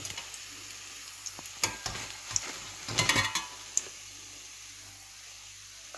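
A homemade tea-time snack fries in hot oil in a kitchen, giving a soft, steady sizzle with scattered clicks and scrapes as it is stirred and turned. Quiet and close, with no voices.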